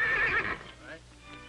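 A horse in the 1936 Western film Old Corral gives a loud, close whinny that falls off after about half a second, with faint hoof clip-clop after it.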